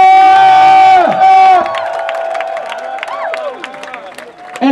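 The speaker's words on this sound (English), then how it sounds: "please a round of applause for Baltimore's #1 hero, Greg St. Pierre!" A crowd at a gallery show cheers and whoops for Greg St. Pierre, voices rising loudly over a sustained tone, then settling into scattered shouts and claps that carry on to the end.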